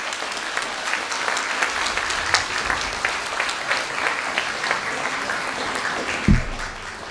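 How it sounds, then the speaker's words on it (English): Dense, sustained applause from a concert audience honoring a group of veena players, steady clapping filling the hall for several seconds with one louder thump near the end. "I would really like the audience to do another big, huge round of applause for all our Vainikas"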